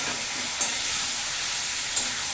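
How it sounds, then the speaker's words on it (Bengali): Mutton fries in a pan as a steady, close hiss and sizzle, with a couple of brief sharp pops, heard alone without talk. "মাটন কিন্তু খুব ভালোভাবে কষতে হবে"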